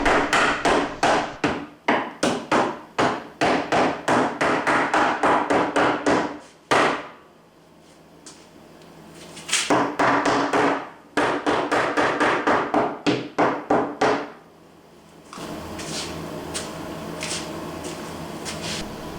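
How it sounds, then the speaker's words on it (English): A hammer drives 2-inch nails into a plywood chicken feeder: quick bursts of sharp, loud, close blows in rapid runs, separated by short pauses, with a duller scraping stretch at the end. "Nail it together with 2-inch nails."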